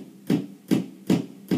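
Acoustic guitar strummed in an easy beginner blues in A, four evenly spaced chord strikes in straight eighths, each a short bright attack that fades quickly, played alone and close.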